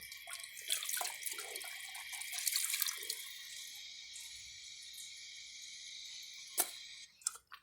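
Water rushes and hisses through a 1974 American Standard Cadet toilet, loud at first with gurgles, then settling into a steady, quieter refill trickle, with a couple of sharp clicks near the end.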